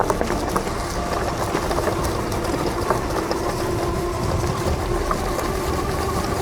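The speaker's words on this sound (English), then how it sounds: "so I guess we're testing the suspension right now. So this might be a little bit of a bumpy part of the video" A budget electric bike rattles and clatters over a bumpy field, producing a continuous jittery rumble with rapid knocks from the suspension and frame, close and fairly loud, without talking.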